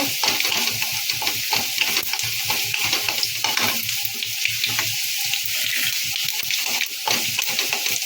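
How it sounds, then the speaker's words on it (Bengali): Whole spices sizzle and crackle in hot oil for a tempering while a utensil scrapes and stirs in a quick, busy rhythm, close up and fairly loud. "তেল গরম হয়ে গেছে ফোড়নটা দিয়ে দিলাম ফোড়নটা ভালো করে ভেজে নেব"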